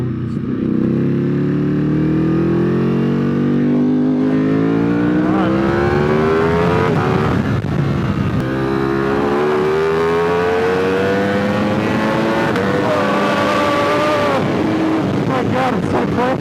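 A Ducati Superleggera V4 motorcycle pulls out of the pits onto a race track, its engine note loud and close, climbing steadily through the revs and shifting gear, while a rider talks over it.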